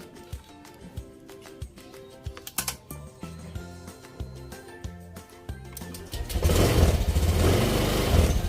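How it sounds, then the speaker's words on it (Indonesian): Motorcycle running on a homemade battery, started with its electric starter: a run of light clicking and tapping, then the engine catches and settles into a loud, steady, close idle for the final seconds. "Lalu kita hidupkan lagi. Menggunakan starter."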